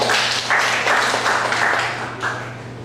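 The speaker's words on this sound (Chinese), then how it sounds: "拍掌欢迎他。" A congregation at a church service claps in welcome, a dense, moderately close patter of many hands that swells in waves and slowly tapers off.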